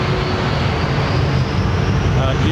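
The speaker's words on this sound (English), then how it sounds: "That's a 767-400 right there, this Delta jet." A Delta Boeing 767-400 jet at London Heathrow, a loud, steady, broadband engine roar that fills the whole stretch without a break.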